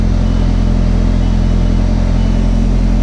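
A boosted Honda CRX engine runs hard on a dyno, a loud, steady, close engine roar with a deep rumble throughout, with no one speaking.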